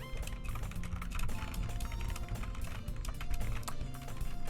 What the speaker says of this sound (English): You can listen to it to me typing.